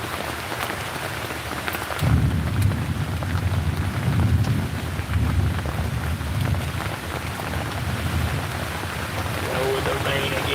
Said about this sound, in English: Oh, the rain again, baby.